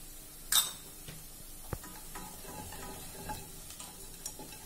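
Ground amla and turmeric stirred in a cooking pan, quiet scraping and soft sizzle with a sharp clatter early and a small knock after, close and faint, no talking.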